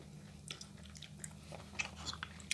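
Crunchy biting and chewing of fresh apple snail meat with dipping sauce, a run of close, crisp crackling crunches in quick irregular bursts over a steady low background hum.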